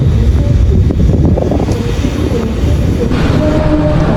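The Kamandaka train at Kroya station gives a loud, continuous rumble of carriages and machinery with faint tonal whines above it, steady and close throughout.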